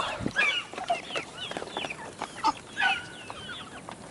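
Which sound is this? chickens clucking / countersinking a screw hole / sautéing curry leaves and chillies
chickens clucking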